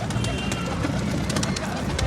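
Sick domestic pigeons in a loft cooing amid dense background noise and a voice talking over them, the low calls blending into a busy, steady hum.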